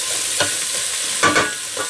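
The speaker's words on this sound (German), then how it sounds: "Und auch ein Momentchen anbraten." Sweet potato and chickpea curry sizzles as it browns in a pan, with a constant hiss broken by a few scraping, stirring strokes close by.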